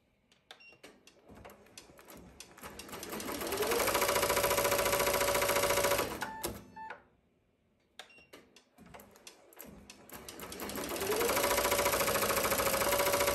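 Ricoma MT1501 embroidery machine stitching steadily, a loud dense mechanical whir that ramps up, runs for a couple of seconds, stops briefly with a few clicks, then starts and speeds up again.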